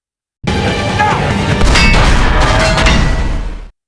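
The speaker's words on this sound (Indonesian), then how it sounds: "ledakan keras mengguncang tanah, Fury menginjak ranjau darat" A loud, close landmine explosion with heavy rumble and crashing debris, lasting a few seconds before cutting off abruptly.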